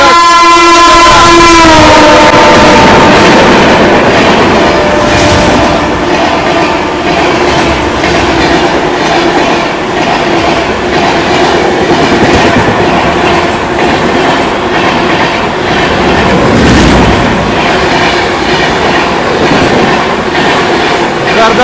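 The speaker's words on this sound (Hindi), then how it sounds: "चीरते हुए आ रही है, धूल उड़ाते हुए आ रही है बनारस की राजधानी" Banaras Rajdhani Express rushing past at speed, a loud horn blast opening into a sustained roar of wheels and rattling coaches that stays close throughout, with a second horn note later.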